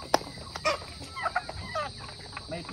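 Farm chickens cluck in short, scattered bursts, close by, with a sharp squawk near the start and no talk over them.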